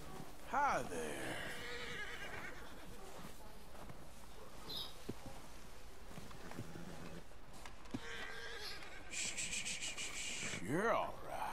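A horse in Red Dead Redemption 2 whinnies loudly at the start and again near the end, with someone talking under a steady game ambience between the two calls.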